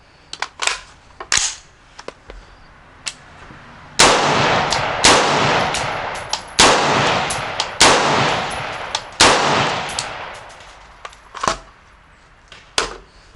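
Rifle fired from a Hex Mag 10-round magazine, about ten loud, sharp shots with ringing echoes, a few isolated cracks first, then a steadier string of evenly spaced reports.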